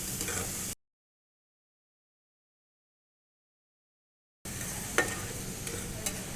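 Onions fry over high flame for Nilgiri mutton kurma, a steady close sizzle with a few spoon clicks, cut by a stretch of complete silence in the middle.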